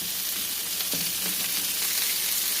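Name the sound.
ginger, garlic and sesame frying in oil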